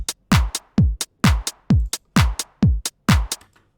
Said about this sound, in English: So as a clap, it would sound like this